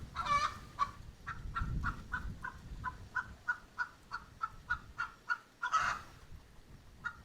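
Backyard garden chickens clucking and squawking in a rapid, evenly spaced series of short calls, close and fairly loud, with louder bursts at the start and near the end over a low outdoor rumble.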